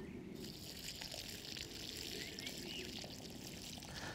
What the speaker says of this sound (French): arrosez au goulot et au pied de chaque plante.